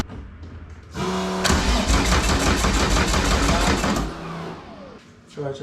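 A cammed VR6 engine in a VW Rabbit cranking over with a rapid rhythmic starter whir for about three seconds, then trailing off without fully catching; close and loud, with a voice in the background.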